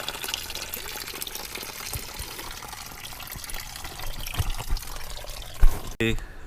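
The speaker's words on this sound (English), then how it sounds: "When you are flushing your coolant out and you need to drain it from here" Engine coolant gushes and splashes as it drains from a 700 HP Honda car during maintenance, a steady liquid pour ending with a sharp knock and brief spatter.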